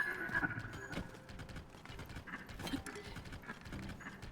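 A horse's hooves clip-clop in the video game Zelda: Tears of the Kingdom, a quiet, uneven run of hoof taps mixed with game sounds and faint background noise.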